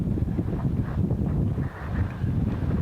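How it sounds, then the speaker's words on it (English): Steady wind buffeting the microphone on an exposed mountain bowl with lingering snow, a constant low roar that swells and dips slightly. "it is windy"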